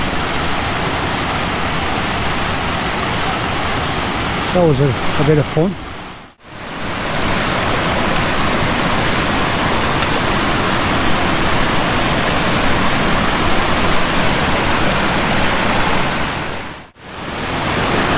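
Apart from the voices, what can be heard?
river water flowing while hikers cross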